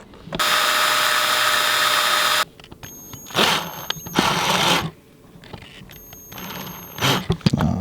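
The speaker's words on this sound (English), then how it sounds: "You drill them out in reverse and then you flip the bit around" A power drill whines loudly for about two seconds, drilling out studs in reverse, followed by several shorter bursts of drilling and grinding with clanks between them, close by.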